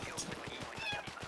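A house cat meows faintly in short, repeated whinging calls during a quiet indoor moment, with faint background noise and no speech over it.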